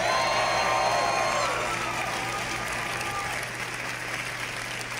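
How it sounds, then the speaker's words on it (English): Crowd applause with cheering and whoops for Todd Howard at the Bethesda E3 2018 showcase, a large hall's steady roar of clapping that gradually fades. "Another round of applause, please, for Todd Howard."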